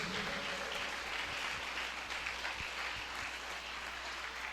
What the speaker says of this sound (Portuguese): Aplaude a palavra de Deus.